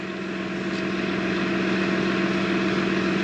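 A farm tractor engine idling as it warms up in a damp field at morning: a constant, even mechanical drone with a steady low hum, close and unbroken, no voices over it.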